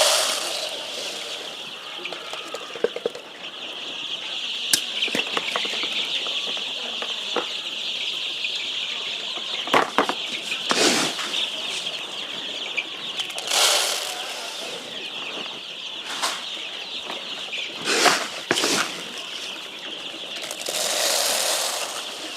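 Layer hens on a poultry farm cluck steadily as a dense, continuous flock chatter, broken by repeated sharp bursts of wing flapping and scuffling, all fairly close and without talk.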